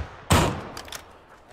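A single loud, sharp gunshot in the battle royale game PUBG bursts out near the start, followed by a few fainter cracks or impacts trailing off, with no talking over it.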